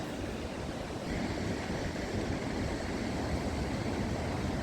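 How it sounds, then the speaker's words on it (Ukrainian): On a Black Sea beach at Chornomorsk in October, waves break in a steady, broad wash of surf. It is a dense, constant roar with no voices. "Ось такі хвилі."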